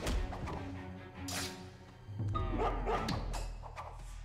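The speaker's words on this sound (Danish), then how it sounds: "han har også en hund med sig." Dog barking in the stealth video game Mark of the Ninja, several short yips and barks over a low ambient game soundscape with thuds and rustles, fairly close and moderately loud.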